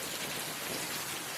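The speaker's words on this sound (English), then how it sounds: "Now it's just rain." Steady rain falls after a storm, a dense, even hiss of drops on surfaces filling the short stretch without pause or voices.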